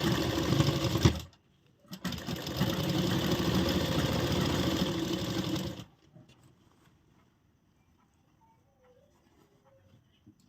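A sewing machine runs along the side seam of a frock, a steady close whirring drone after a brief opening burst and pause, then stopping into near silence with faint handling noises.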